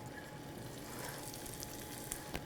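Onions with thyme cook gently in a covered pan, giving a soft, steady low sizzle with faint crackles and a couple of small pops near the end.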